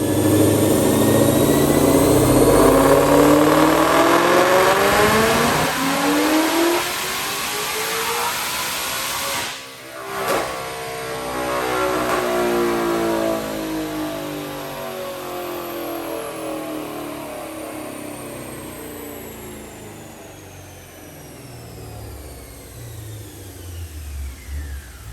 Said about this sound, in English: But first, watch this dyno pull.